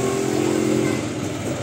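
A tractor engine runs steadily nearby as it is being parked, a continuous loud rumbling drone with a slight waver and no pauses.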